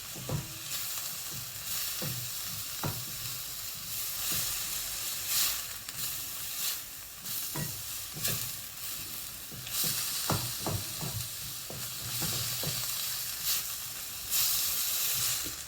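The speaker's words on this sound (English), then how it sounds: "because the pan is that hot, the onion is softening up" Chopped onion frying in a very hot pan for a chicken and black bean stir fry, giving a steady loud sizzle and hiss with occasional crackles and light stirring clicks throughout.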